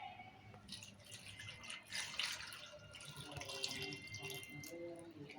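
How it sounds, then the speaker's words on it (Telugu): Raw milk is poured into a pressure cooker holding cut carrot pieces, a soft, close liquid trickle and splash with faint dripping, quiet and without speech. "ఇప్పుడు పాలు పోసుకుందాము. పాలు పోసి ఉడికించుకోవాలి."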